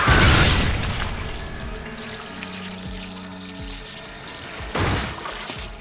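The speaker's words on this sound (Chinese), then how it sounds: "但下一刻就被吉良用黑洞炸弹给炸了个透心凉" A film explosion from a black hole bomb on a deserted-island survival game opens with a heavy boom, rumbles down, then a second blast bursts out near the end.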